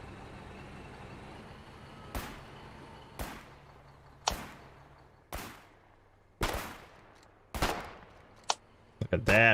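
Pistol shots in a video game ring out one at a time, roughly a second apart, each a sharp crack with a short tail over low background rumble, the last few coming quicker and louder.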